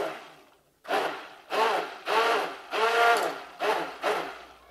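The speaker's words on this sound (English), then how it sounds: "I've turned my hand mixer to be moving on a low agitation" Hand mixer running at low agitation while blending soap-making oils, filler and acids, its motor whirring in six steady pulses after a fading start, with no voices.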